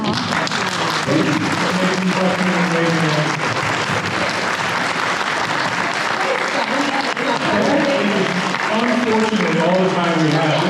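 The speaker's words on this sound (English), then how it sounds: "Big round of applause, everybody." An audience at a convention panel about Attack on Titan bursts into sustained applause with cheering, dense and loud throughout, while voices call out over the clapping.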